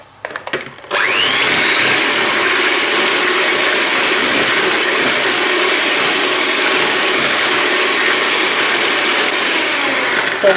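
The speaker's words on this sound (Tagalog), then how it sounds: "we will mix this using a hand mixer" An electric hand mixer starts after a brief clatter and runs at a steady, loud whirring drone while mixing dry ingredients and melted butter into a batter for puto pao, continuing unbroken without any voices.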